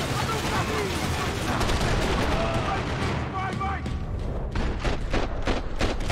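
Gunfire from the video game Max Payne 3, a dense barrage of shots layered over game music and ambience, with sharp bursts growing more distinct toward the end and speech mixed in.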